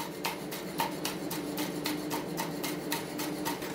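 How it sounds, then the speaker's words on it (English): A knife cuts citrus peel into fine slices on a cutting board, a steady run of close, crisp regular chops, about three to four per second, with no talking. "is cut them into fine slices"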